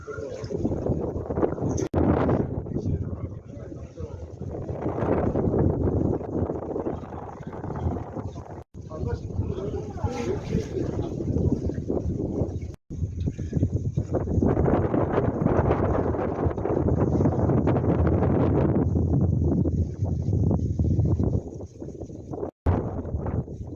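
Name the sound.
strong wind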